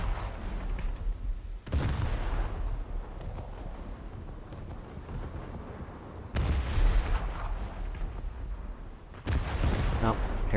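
Gunfire and exploding shells in a naval battle video game set at Saipan, with three heavy booming blasts spaced several seconds apart, each followed by rumbling, crackling noise.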